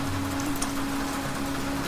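Heavy rain in a cartoon scene pours in a dense, continuous hiss, steady and loud over the short stretch without any speech.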